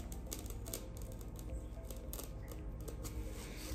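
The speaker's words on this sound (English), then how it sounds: "And cut right up to that hairline." Scissors snipping through the base of a hair system along the hairline, a dense run of quick, close, crisp cuts that continues steadily with no talking.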